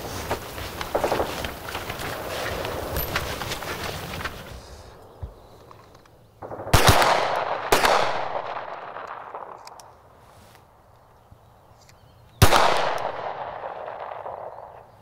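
Several sharp pistol shots echo outdoors at a 25-metre shooting range, a few spaced single shots each with a long reverberant tail, following a stretch of rustling background noise.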